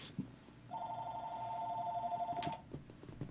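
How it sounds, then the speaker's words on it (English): A telephone rings partway through a live talk broadcast, a steady electronic two-tone ring of about two seconds with faint room sound before and after. "I forgot to shut off the phone, which we're going to do right now"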